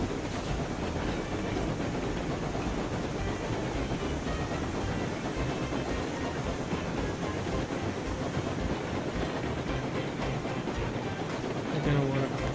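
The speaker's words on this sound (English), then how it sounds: "Now we're going to give it full throttle here because we're making our way up a nice grade." A steam locomotive in the Railroads Online video game pulls up a grade at full throttle, giving a dense, steady rumble and rhythmic rail clatter that runs loud and unbroken throughout.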